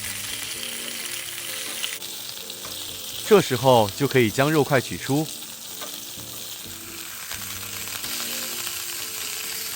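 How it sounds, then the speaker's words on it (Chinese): Chunks of meat pan-frying in oil until golden and lightly charred give a steady, even sizzle throughout, with a short stretch of speech over it midway. "一直油煎至两面金黄，表面微焦后，叉子可以戳进肉块，"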